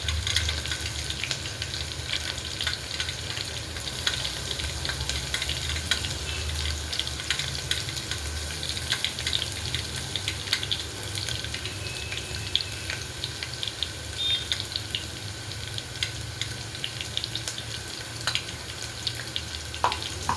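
Coconut and garlic frying in oil in a pan for a cluster bean dish, a steady, even sizzle that carries on without a break at moderate loudness, with no voices and only faint clatter in the background.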